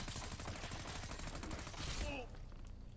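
Gunfire in the Hitman Absolution video game: a rapid, continuous automatic burst rattles loudly for about two seconds, then cuts off abruptly and leaves a fading echo.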